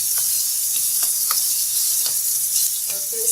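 Tomatoes fry in a hot pan for chicken macaroni with a bright, steady sizzle. Occasional light spoon taps and stirring knocks punctuate the hiss.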